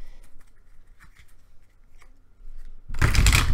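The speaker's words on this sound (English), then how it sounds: "I'm going to shuffle the dickens out of these deck for the outcome here." A deck of tarot cards being shuffled hard, a dense rustling burst of riffled cards close by near the end after quieter handling sounds.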